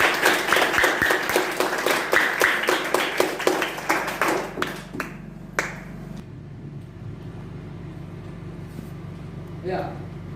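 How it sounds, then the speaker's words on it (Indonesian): An audience applauds after a group presentation in a classroom. There are rhythmic, unison claps for about five seconds, then the clapping fades into room hum and brief speech. "kita berikan aplaus dulu"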